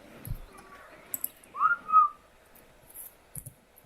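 A short whistled command in Ark Survival Evolved, a couple of clear rising tones standing out against sparse clicks and quiet background.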